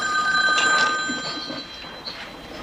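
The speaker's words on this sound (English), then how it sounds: "Aren't you going to answer the phone?" A telephone bell rings with a bright, sustained electronic trill at the start, then fades away into quiet room tone with no one talking.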